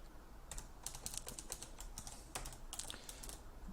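Quiet, rapid clicking of keys on a computer keyboard as code comments are typed, with irregular bursts of keystrokes and short pauses, heard close and alone.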